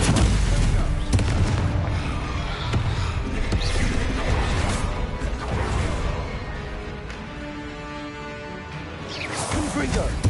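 Bombarda spell blasts in the Hogwarts Legacy video game, loud booming explosions and crashing bursts layered over dense in-game combat noise, with heavy impacts early on and again near the end.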